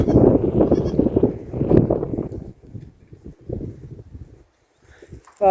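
Sheep and goats bleat in a loud, crowded chorus that thins out into quieter scattered calls and shuffling.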